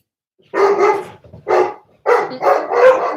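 Several house dogs bark excitedly at a visitor, a rapid run of loud, close barks broken by short pauses, with a soft whimper between bursts.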